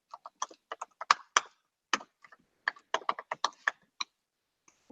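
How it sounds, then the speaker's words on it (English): Someone types on a computer keyboard, entering text into an on-screen sentiment analysis demo; irregular bursts of close, crisp key clicks with short pauses, fairly quiet and without talk. "I can go in and type something here"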